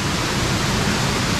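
Fresh water rushes down a forest stream on a plateau in the Konkan, a loud, continuous broadband hiss of flowing water close by, with no voices.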